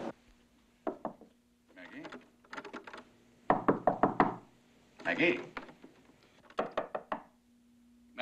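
Repeated knocking on a wooden door in a 1980 drama, coming in several rapid bursts of close, sharp raps separated by pauses, with a voice calling out between them.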